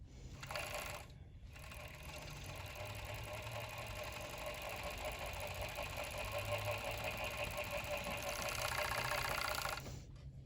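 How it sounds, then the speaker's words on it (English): A serger sewing machine running steadily to finish the edge of stretch fabric, a fast even mechanical whir with rapid stitching chatter that speeds up slightly near the end before stopping. "we're going to go ahead and serge the edge to finish it"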